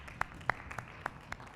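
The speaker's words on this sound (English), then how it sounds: "Let's clap for him." An audience at a youth politics symposium in Uganda claps for a speaker, a brief run of about seven sparse, evenly spaced claps over a quiet room.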